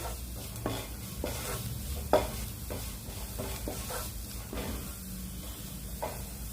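Coriander and turmeric powder fry in a pan for an egg kurma, with a steady low sizzle broken by repeated scraping stirs, one louder clack near the middle, and no voices.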